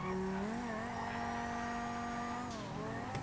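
A Toyota Supra JZA80 in the GTA5 game drives with a steady engine drone that climbs slightly in pitch, then dips near the end alongside a brief tire squeal, loud and close throughout.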